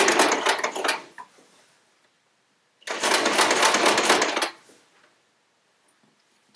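A sewing machine stitches a quilt block in two loud close bursts of rapid mechanical whirring, the second longer, with quiet pauses and faint handling clicks between them.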